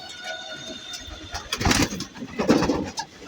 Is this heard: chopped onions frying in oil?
no